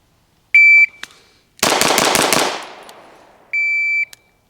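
Six rapid pistol shots from a Bul Armory EDC Pro crack out in a quick close burst with a ringing decay, framed by a shot timer's sharp electronic beep before and after.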